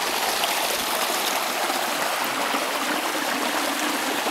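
A small stream serving as the water source at Watauga Lake Shelter on the Appalachian Trail in Tennessee flows close by, a steady, bright babbling and trickling that runs on alone.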